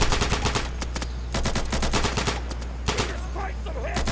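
Rapid gunfire bursts in the video game Insurgency, a hunt mode match at night, with repeated sharp shots clustered in quick volleys over a steady low hum, loud and close, with faint tonal game sounds near the end.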